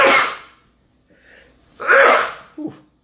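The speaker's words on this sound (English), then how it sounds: "I'm about to sneeze." A single person sneezes loudly, preceded by a sharp inhale and followed by a second, louder burst and a short trailing sniff, all close to the microphone in an otherwise quiet room.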